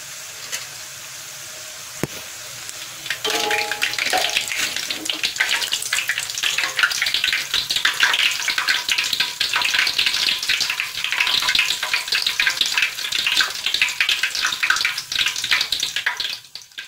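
Tempeh sticks frying in oil in a large wok, a continuous loud bubbling sizzle that rises after a quiet opening and holds steady to the end, with a brief faint clatter near the start.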